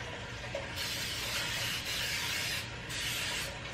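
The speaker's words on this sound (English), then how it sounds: "All right, so we got nonstick spray." Nonstick cooking spray hisses from an aerosol can onto a baking pan in a few steady bursts, close and fairly loud, with short pauses between the sprays.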